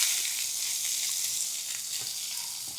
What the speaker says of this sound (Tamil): இப்போ நம்ம வெட்டி வச்ச வெங்காயத்தை போடுவோம்.